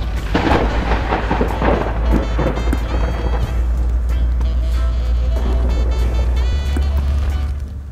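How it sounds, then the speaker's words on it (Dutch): Heavy rain roars continuously while deep rumbling thunder rolls through, loud and close, with a sharp clap near the start. "En het begon dus met een hevig onweer."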